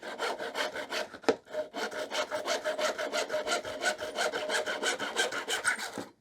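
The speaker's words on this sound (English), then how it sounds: "And we can just saw straight off the side" A hand saw cuts scrap wood held on a bench hook, a steady run of about twenty even rasping strokes, close and alone, with a sharp knock near the start.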